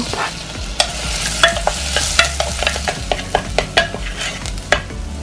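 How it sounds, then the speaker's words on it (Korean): Sliced onion stir-frying in perilla oil in a hot pan, a steady close sizzle broken by repeated sharp scrapes and taps of a utensil against the pan. "팬에 들기름 두른 다음 양파를 넣고 볶아서 살짝 단맛을 내주세요"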